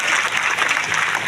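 Loud, dense crowd applause fills the whole short stretch, welcoming a former legislator at a village ceremony for a power substation groundbreaking and health sub-centre opening.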